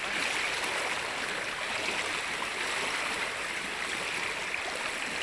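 A fast-flowing river current in a forest rushes with a steady, dense broadband roar that stays constant and close throughout, with no voices.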